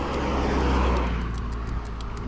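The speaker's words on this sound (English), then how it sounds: "Look at that Toyota." A Toyota car passes nearby with a brief swell of road and engine rumble that fades within a couple of seconds against outdoor background noise.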